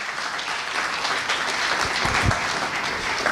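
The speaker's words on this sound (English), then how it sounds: "give him a round of applause, Brian Ford" An audience at a business community meeting applauds the head coach of a high school football team, steady continuous clapping throughout with a few low thumps near the middle.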